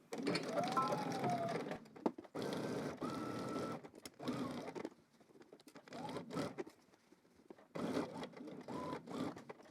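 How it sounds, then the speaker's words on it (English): A sewing machine stitches a polo shirt seam in several bursts of rapid, whirring needle patter, pausing between runs, with faint talk alongside. "go ahead and stitch that down using your seam allowance"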